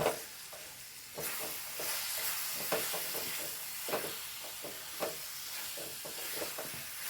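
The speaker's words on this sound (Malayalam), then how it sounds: "വഴറ്റി കൊടുക്കാം" A pickle of dates and green chilies fries in a pan on a gas stove, with a continuous sizzling hiss broken by sharp stirring scrapes and clicks of a spoon, close and alone.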